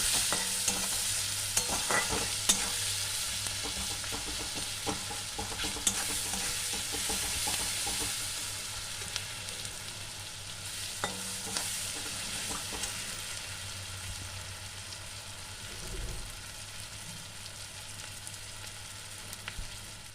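Steady sizzling of onions frying in a pan, with occasional stirring scrapes, continuous and close, no voices.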